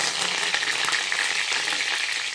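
Fennel seeds and chopped curry leaves crackle and fry in hot oil for an egg and onion samosa filling, a loud, dense, continuous sizzle with scattered pops close up.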